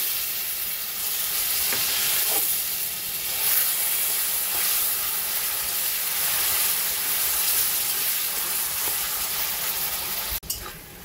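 Two boiled tomatoes sizzle over a low flame in a pan with salt, turmeric, cumin and chilli powder, giving a steady close hiss, with a single utensil clank near the end.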